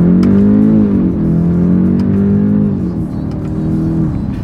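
A 2024 BMW 530i in sport driving mode accelerates hard from a stop, its engine a loud, close, rising drone that drops briefly at shifts and then climbs again, heard from inside the car without talk.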